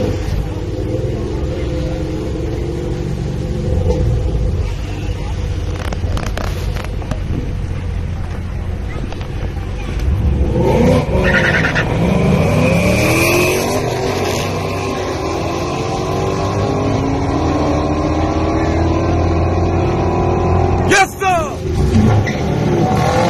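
Drag race cars, a Mopar against a Ford, accelerating at Pageland Dragway: loud engine roar builds and sweeps upward with crowd noise and talk throughout, ending in a sharp burst.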